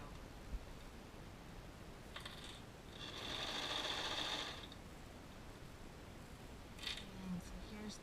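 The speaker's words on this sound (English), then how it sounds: "I'm going to continue overlapping my serging for an inch" A serger overlock machine stitches a knit top's neckband in a short, buzzing run mid-clip, with faint handling clicks and rustles before and after.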